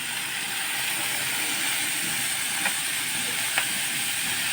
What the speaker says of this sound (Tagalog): Gigisa lang sa bawang sibuyas.